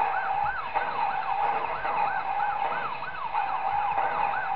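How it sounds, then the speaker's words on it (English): A wailing police car siren in the video game Five Nights At Smudgers 4, loud and close with a steady rising-and-falling yelp over a low engine rumble. "We have a police car chasing after me."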